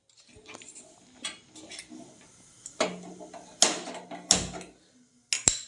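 A pan is set down on a stove among a few sparse kitchen knocks and clinks, then several sharp metallic clanks near the end, close and fairly loud against a quiet room.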